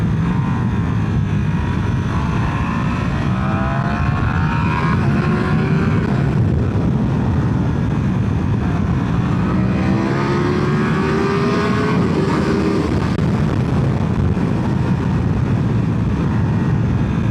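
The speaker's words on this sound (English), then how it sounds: "You can still kind of hear the engine sound like underneath through the intake and the actual engine itself." Stock-exhaust Ducati Panigale V4 being ridden hard: a muffled engine drone beneath strong wind rush, with rising and falling revs as the throttle comes on and off through gear changes, and no talk.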